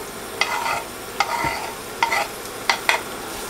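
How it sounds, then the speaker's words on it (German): Onions in melted fat in a frying pan, cooked alongside bacon for a Dutch mussel dish: a steady crackling sizzle broken by about five sharp scrapes and clinks as the onions are stirred. "Und da hinein gebe ich jetzt meine Zwiebel."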